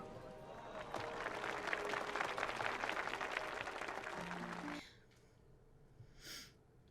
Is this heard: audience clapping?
yes